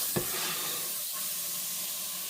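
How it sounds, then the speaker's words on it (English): A stick of butter melting in a pan that is too hot, giving a steady broadband sizzle with a brief sharp hit at the start and no voices. "we're going to melt a stick of butter. And my pan's too hot"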